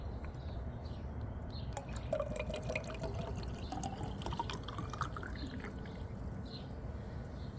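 Liquid sold as moon water pours from a bottle in a soft, steady trickle with light dripping, close and fairly quiet, running for several seconds.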